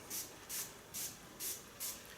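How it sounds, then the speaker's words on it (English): Perm fixation lotion sprayed onto hair set in rollers, five short soft hissing bursts in a steady rhythm, close and fairly quiet. "But by spraying I can go deep into the hairs."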